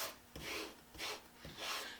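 Sole of a Defiance #3 hand plane rubbed on 80-grit sandpaper over a sanding plate, three steady rasping strokes with brief pauses between them, close and alone.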